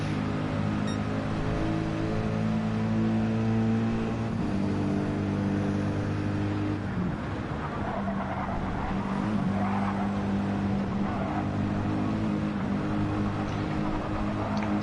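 Racing cars roar continuously around a track in a racing video game, a dense, steady engine drone with shifting pitch and occasional tire noise, loud and unbroken throughout with no talk.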